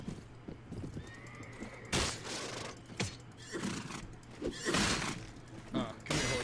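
A horse in Mount & Blade whinnies and neighs amid clip-clopping hooves and scattered clattering bursts, with a voice talking over parts of it.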